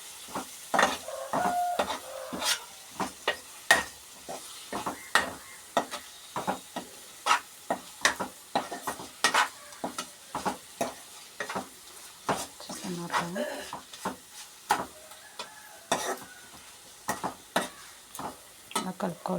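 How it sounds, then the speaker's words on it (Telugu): Egg and boondi curry with turmeric is stirred in a pan, with a steady run of sharp scraping strokes over a soft sizzle, close and fairly loud, and no talking. "తర్వాత మొత్తం ఇలా కలుపుకోవాలి ఫ్రెండ్స్."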